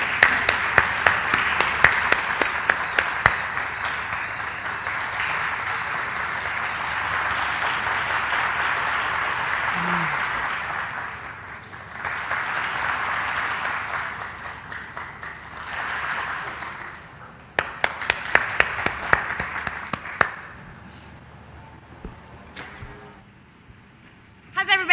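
A convention audience claps in long waves of applause, with sharp individual claps on top, dipping and swelling several times before trailing off into scattered claps near the end, with some talk mixed in.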